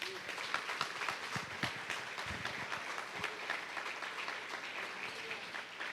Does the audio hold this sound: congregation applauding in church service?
yes